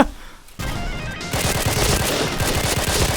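Rapid automatic gunfire from a video game, heard after a brief quieter opening and a sharp start, then bursting in dense, loud, continuous volleys.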